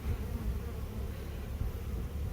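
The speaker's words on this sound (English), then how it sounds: "Looking at these bees pouring out of this entrance." Dense, steady buzzing of many honey bees pouring out of a hive entrance close by, a continuous droning hum with no other sounds.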